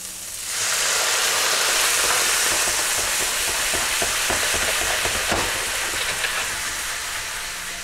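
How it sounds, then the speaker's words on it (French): White wine hits a hot pan for deglazing, bursting into a loud, steady hiss and sizzle that holds for several seconds before easing slightly, with no talking. "On va déglacer avec un petit peu de vin blanc"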